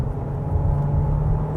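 A 2022 Volkswagen Taos with a DSG gearbox pulling under throttle through a corner, a steady low engine drone and road rumble heard from inside the cabin, no talking.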